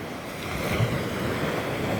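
Sea waves at night along a quiet shore, a continuous near wash of surf with soft swells and some wind noise on the microphone.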